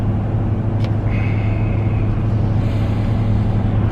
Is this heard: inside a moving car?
yes